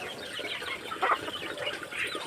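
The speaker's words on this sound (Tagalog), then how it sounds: "Nagpapatuka ng manok." Chickens being fed cluck softly and steadily at close range, with a couple of louder squawks standing out against a busy, low background.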